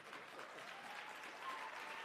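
A conference audience at a township economy summit gives a round of applause, a faint, steady wash of many hands clapping at a distance, unbroken for the whole two seconds.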